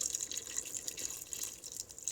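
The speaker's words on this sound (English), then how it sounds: "I've added about a cup of water so far, and I'm gonna add a little bit more." Water pours from a cup into an Instant Pot holding vegetables and spices for a lettuce soup, a soft, continuous trickle and splash at close range, fairly quiet, with no talk.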